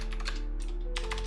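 Rapid typing on a computer keyboard, close and fairly loud, in quick bursts of key clicks with short pauses between them, over a steady background hum.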